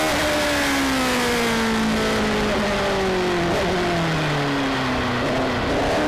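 A hillclimb race car powered by a 4-litre Judd V8 with a Ricardo gearbox accelerates hard, its engine note climbing and then falling through gear changes, loud and close throughout with no talk.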